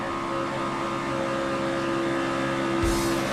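A race car laps during final practice at Daytona, its steady engine drone sustained throughout and ending in a sharp burst as it sweeps close past.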